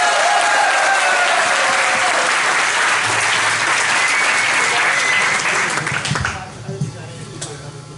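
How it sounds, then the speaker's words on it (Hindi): Loud, sustained audience applause fills a hall at a hasya kavi sammelan comedy poetry event, thinning out toward the end as a voice begins over it. "तालियां बजाएंगे।"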